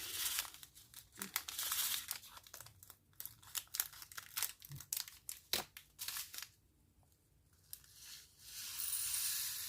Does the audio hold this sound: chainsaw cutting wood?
no